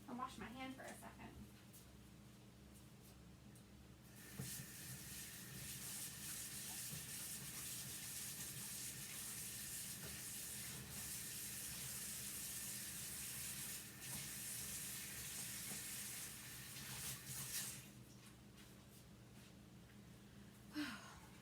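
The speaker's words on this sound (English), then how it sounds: "I'm just gonna take this over to the sink and wash my hand for a second." A sink tap runs during handwashing, a soft steady hiss of flowing water lasting about thirteen seconds, faint and indoors, with brief handling noises before and after.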